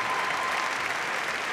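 Steady, dense applause from a large audience at a university graduation ceremony, continuous and even throughout with no pauses.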